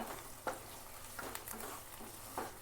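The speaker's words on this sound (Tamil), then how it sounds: "நல்லா வதங்கட்டும்." Potatoes and vegetables sauté in a pan for a broad bean curry, a faint steady sizzle with a few soft stirring scrapes spaced through the short stretch.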